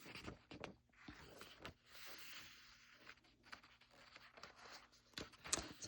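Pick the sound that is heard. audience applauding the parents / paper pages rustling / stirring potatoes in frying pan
paper pages rustling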